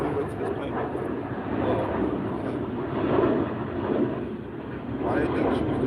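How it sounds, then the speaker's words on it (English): An airplane flies overhead with a steady, broad roar that swells and fades slightly across several seconds, heard outdoors with a voice faintly underneath. "Let me wait till this plane goes."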